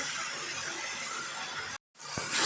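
Tomatoes sautéing in a pan for chicken kurma, a steady broadband sizzling hiss that cuts out abruptly near the end, then resumes with a brief clink.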